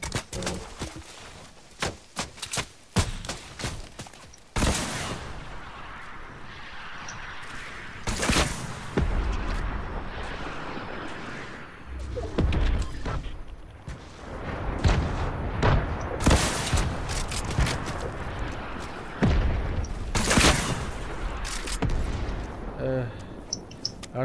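Gunfire rattles through a video game shootout in repeated bursts and single booming shots, loud and close, while players talk over the action throughout.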